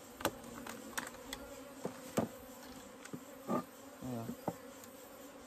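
Bees swarm in an open field during a hive removal, a steady insect buzz running beneath several sharp knocks and handling noises, with someone speaking briefly nearby.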